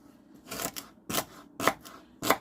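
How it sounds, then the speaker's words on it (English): A knife cuts through celery pieces on a board in four separate crisp strokes about half a second apart, close and moderately loud, without talking. "cut it in half, and then dice them up smaller."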